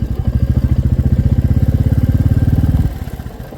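A motorcycle engine putters at close range on the Delhi–Katra Expressway construction stretch between Malerkotla and Bhawanigarh, with a steady, rapid thumping rhythm, then eases off and drops lower near the end.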